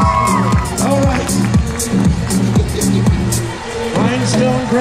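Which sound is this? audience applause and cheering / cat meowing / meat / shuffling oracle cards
audience applause and cheering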